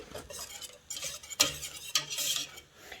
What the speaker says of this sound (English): So I'm going to keep stirring this constantly.